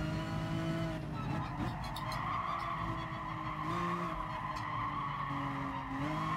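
An Acura NSX drifting in GT Sport, with a steady engine drone and repeated tire squeals that rise and slide in pitch as the car slips, fairly faint.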